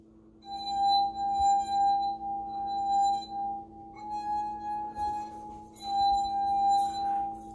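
A second water-filled drinking glass, tuned to a lower note, is tapped about four times, each strike leaving a clear sustained ring that fades before the next.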